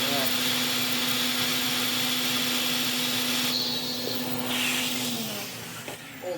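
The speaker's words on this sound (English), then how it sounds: "it's doing what the cheap Chinese vacuums do and making a horrible screechy sound through the wand" A vintage Hoover 427 cylinder vacuum cleaner runs with a loud, steady whine and a high screech through the wand, cutting down near the end while a person talks over it.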